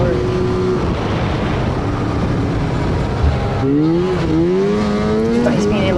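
A mountain snowmobile runs along a snowy Northern Michigan trail with a steady, close engine roar throughout, its pitch climbing and dipping in the second half as the throttle opens and eases off.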